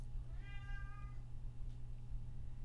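A cat gives one short, clear meow over a steady low background hum, fairly quiet and close.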